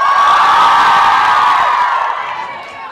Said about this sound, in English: What are you cheering for?